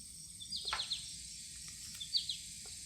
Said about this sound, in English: This is just the environment sound I have with the birds.